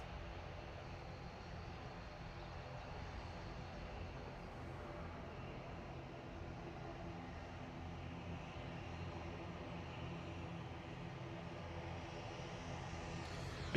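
A large jet airliner taxis in at Manchester Airport, heard as a steady, faint low engine rumble and hiss, distant and continuous, with no voices.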